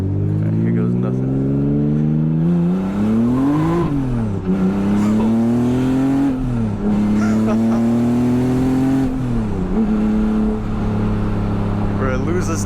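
A turbocharged BMW E36 accelerating hard on the street, the engine revving up in loud rising sweeps with brief drops between gear changes and wheelspin, heard close from inside the car.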